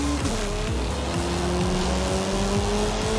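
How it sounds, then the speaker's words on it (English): Video-game Honda Civic drifting up a mountain road, a steady engine drone with rising and falling pitch under continuous squealing tires, loud and constant throughout. "We're just going to try and keep this guy drifting up the hill."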